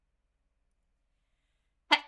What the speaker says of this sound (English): Sorry, I had to sneeze.